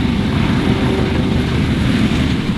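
Propeller airplanes fly over Oshkosh AirVenture on a busy arrival day, a steady loud engine drone with a broad rumble that holds without a break throughout.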